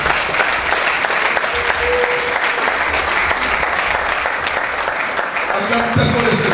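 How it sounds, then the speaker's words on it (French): A church congregation applauding to acclaim the Lord during a sermon on offerings, steady loud clapping from a large crowd that continues throughout, with voices mixed in beneath. "Acclamons le Seigneur."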